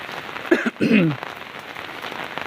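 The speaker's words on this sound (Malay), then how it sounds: "rancak kita abadikan momen hujan ko sana ya" Steady rain falls across a village during the rainy season, a continuous hiss on surfaces, with a brief voice and a short clatter partway through.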